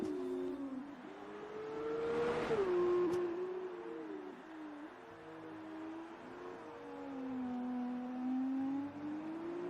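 Race car engines in an F2 racing game at Baku drone at a moderate distance, a steady whining tone that rises and falls with gear changes and braking, with a brief louder surge partway through.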